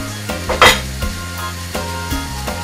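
Stir-fry of vegetables, noodles and shrimp with soy sauce in a pan, stirred with a utensil: a few sharp scrapes and clanks against the metal over a soft sizzle.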